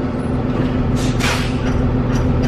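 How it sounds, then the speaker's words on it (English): A Freightliner truck's air brakes hiss in a short burst over a loud, steady engine idle hum, heard close from the cab. "the sound of the brakes."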